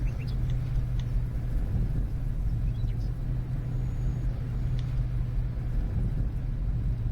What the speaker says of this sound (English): Good thing I bought this handyman truck.